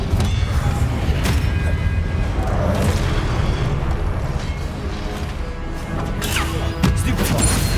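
Spells are cast and strike in the Hogwarts Legacy video game: a dense, loud run of booming impacts, crashes and magical whooshes layered over a continuous rumble, steady throughout.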